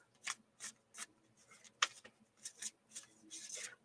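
A deck of oracle cards is shuffled in soft, quick riffles, about ten brief papery bursts in an uneven rhythm, close and quiet with nothing else heard.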